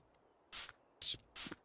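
Cleaning spray from the video game House Flipper 2, three short hissing bursts evenly spaced and close up, each a crisp pump-spritz with no voices present.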